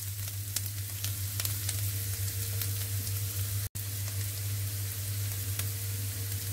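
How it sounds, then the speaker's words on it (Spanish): Onion frying and caramelizing in a pan makes a steady, close sizzle with faint crackles, over a low hum and broken by one brief dropout midway. No voices are heard. "en cuanto a la cebolla comienza a caramelizar"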